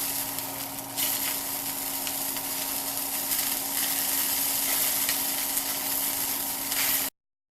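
Fat on a sous vide bison ribeye sears in a hot pan, giving a steady, hissing sizzle that holds evenly for about seven seconds before cutting off abruptly.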